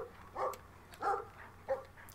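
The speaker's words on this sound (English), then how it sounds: "Alright, he's barking at me." Dog barking in a video game, three short, separate barks spaced evenly apart, fairly close and clear over faint background hum.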